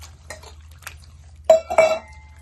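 Raw mutton being washed with water in a pot, giving a few soft sloshes and clinks of meat and liquid against the metal, with two louder splashing bursts near the end over a low steady hum.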